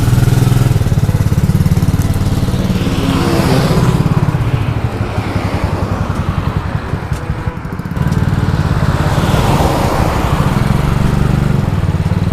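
Honda Wave 125s motorcycle started and ridden off, a loud close buzzing single-cylinder engine that revs up, dips briefly mid-ride, then rises again, steady and continuous without talk.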